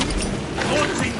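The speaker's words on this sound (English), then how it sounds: "Changing magazine" A weapon magazine swap in a sci-fi shooter against alien bioforms, heard as a short mechanical clatter and click over a dense, noisy game soundscape.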